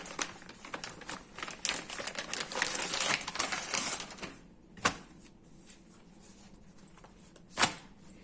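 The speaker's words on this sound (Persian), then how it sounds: "خب خمیر یوفکامون رو باز میکنیم." Yufka pastry dough is unwrapped from its packaging, giving close crinkling and rustling with dense papery rubbing, then a few isolated sharp crackles after the handling quiets.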